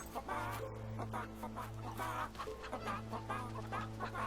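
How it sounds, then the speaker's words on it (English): Chickens clucking in the video game Fable 3, repeated clucks and warbling calls overlapping in a fairly busy, continuous stretch over a steady low hum. "Hey, chickens! I knew you were nearby. I could hear you."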